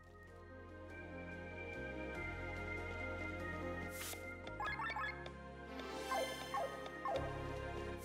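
A puppy whimpers and yips in the Chained Echoes game, high plaintive cries coming in short bursts over steady background music.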